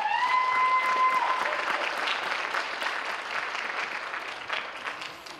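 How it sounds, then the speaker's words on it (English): An audience at a school awards ceremony gives a round of applause, a steady burst of clapping that slowly fades out over a few seconds, with a brief tone at the start. "please give a huge round of applause to Miss Danish Shukuri."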